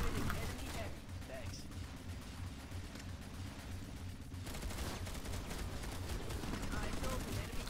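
Dense, continuous gunfire from a light assault versus heavy assault fight in a video game, loud and sustained bursts with a player's voice talking over the shooting.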